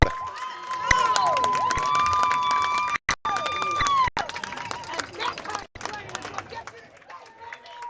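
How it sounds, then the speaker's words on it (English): A football stadium crowd at a high school game cheers and roars in a broad wash of noise, with shouts and whistles rising over it and a few abrupt breaks. "Listen to this crowd."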